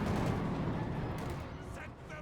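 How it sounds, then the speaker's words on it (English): An artillery barrage crashes into a base in the Company of Heroes 2 real-time strategy game, a continuous rumbling roar of impacts with faint crackles above, while a commentator talks over it. "We got a barrage coming in here into the base"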